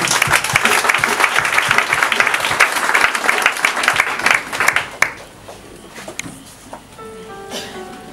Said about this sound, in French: Tu peux acclamer le Seigneur pour moi.